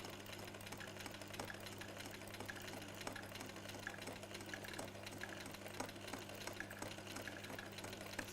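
Sewing machine stitching a quilt, a faint steady motor hum with a fast even mechanical clatter repeating in a continuous rhythm.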